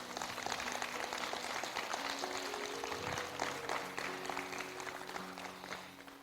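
A church congregation claps during a sermon, sustained applause with no single standout claps, faint and fairly distant, with sustained tones underneath.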